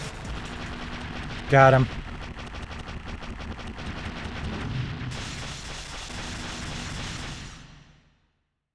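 Gunfire in a PlayStation demo disc video game: a brief loud burst of shots near the start, then continuous game noise and effects with a voice speaking over them.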